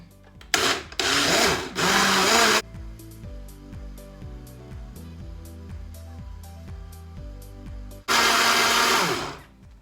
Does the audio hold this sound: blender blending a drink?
yes